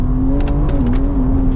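A Porsche GT3 RS race car accelerates at speed through fast sweepers on a track, its engine holding a loud, steady, high-pitched drone close by, with brief gear and tire noises over the top.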